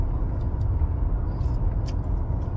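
A car driving on the road, steady low rumble of engine and road noise from inside the cabin, with a few faint clicks and rattles, no speech.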